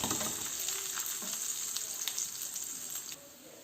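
Gola kebabs fry in a pan, turned so every side browns, giving a steady close sizzle with soft crackles and a few light clinks of a utensil.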